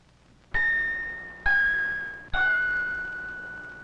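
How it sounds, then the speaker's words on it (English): Three metal bars on a toy xylophone struck one after another at an even pace, each a bright, clear ringing tone that decays slowly, heard close and alone. "The metal bars on this toy xylophone are different lengths."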